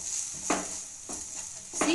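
A spoon stirs sliced onions frying with red chili powder, turmeric and curry leaves in a pan. A steady close sizzle runs throughout, broken by three scraping strokes roughly every half-second to second.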